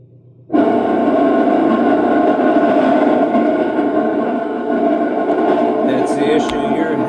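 A GE washing machine on its drain and spin cycle starts abruptly after a brief quiet moment, then keeps up a loud, steady mechanical whir and hum at close range until the end.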